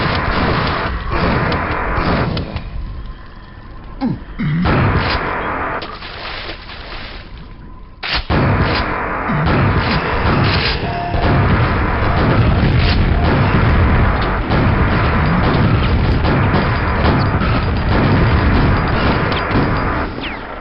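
Rocket launcher explosions in Quake, a long run of loud, heavy booms and bursts following one another almost continuously, with one brief lull before the blasts resume.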